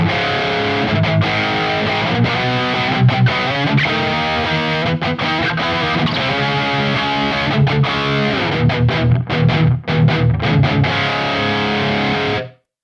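Heavily distorted electric guitar through a Quad Cortex Friedman amp model with reverb, playing continuously with dense chords and picked notes, loud and close, ending abruptly with no talking.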